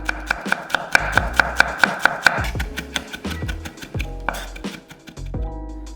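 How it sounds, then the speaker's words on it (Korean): A kitchen knife minces four whole garlic cloves on a cutting board for spinach gimbap, first in a quick, even run of sharp chops, then in slower, irregular strikes. "먼저 통마늘 4개 다져서"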